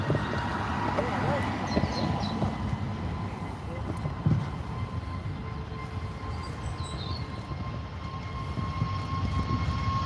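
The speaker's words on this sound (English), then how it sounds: "EasyJet A320 Neo on the Neo livery on the departure." An easyJet Airbus A320neo departing Manchester Airport sends up a continuous low engine rumble that stays steady throughout. Faint distant voices and a few short clicks sit under the roar.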